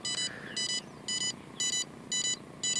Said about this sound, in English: Powered it back up, and now I get this beep.